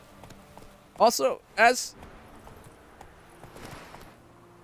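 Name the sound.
Roach, Geralt's horse, trotting in video game The Witcher 3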